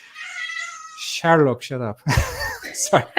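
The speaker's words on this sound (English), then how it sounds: "sorry for my cat" A cat lets out a drawn-out, wavering meow near the microphone, followed by a person speaking briefly.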